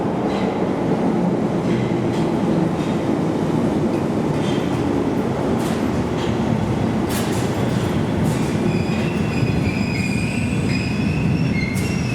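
A train departing London Marylebone station rumbles steadily nearby, with metallic wheel squeals and faint clicking over a constant roar of rolling stock.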